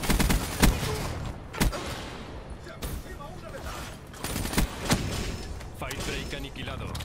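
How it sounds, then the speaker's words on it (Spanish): Gunfire from the video game Call of Duty Black Ops 3: repeated loud bursts and single shots crack over a continuous dense battle din, with people talking throughout. "He disparado al suelo 20 veces."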